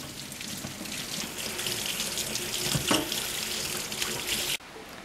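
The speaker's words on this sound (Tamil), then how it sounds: "இப்போ இதை கழுவிடலாம்." Running tap water splashes steadily over an oily kitchen tray in a sink, a close, continuous hiss with small clatters, stopping abruptly near the end.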